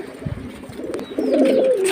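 High-flying pigeons for sale coo in low, throaty warbles, rising into a louder burst of overlapping cooing toward the end, close by.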